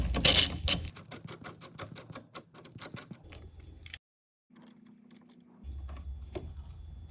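A ratchet wrench loosens the 10mm negative terminal nut on the auxiliary battery of a 2017-2024 Chrysler Pacifica, clicking rapidly and loudly in a rhythmic burst, then quieter, slower clicks before falling nearly silent.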